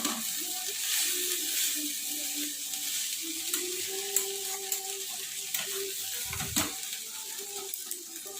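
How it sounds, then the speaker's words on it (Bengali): Potatoes for aloo bhaji sizzle and fry in a pan in a continuous, moderately quiet hiss, with faint tonal hum and a few small clicks and a soft thump near the end. "এইভাবেই কিছুক্ষণ ধরে ভাজা হবে"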